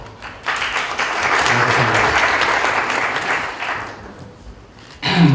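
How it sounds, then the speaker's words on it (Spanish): An audience at a communication and human mobility conference applauds after a guest analyst is introduced, a swelling, sustained wave of clapping that fades out, followed by a voice starting to speak. "Un aplauso, por favor."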